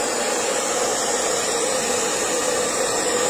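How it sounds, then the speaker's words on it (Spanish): Hair dryer blowing steadily on wet decorative paint to make it crackle, a loud continuous close-up whoosh with no voices. "yo voy a poner un poquitito del secador acá y se van a dar cuenta que empiezan a hacerse las grietas"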